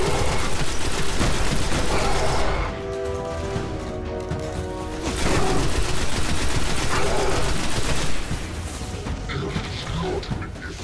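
Sustained bursts of gunfire in the Destiny video game, loud rattling fire in long stretches with a brief lull and a tonal effect between, speech mixed in.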